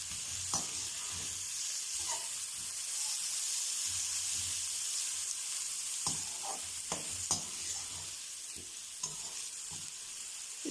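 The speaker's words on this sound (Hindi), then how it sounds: "तो अब हम इसमें प्याज डालेंगे।" Finely chopped onions frying in hot oil, a continuous sizzle and hiss broken by intermittent scraping and clinks of stirring in the pan, close and moderately loud.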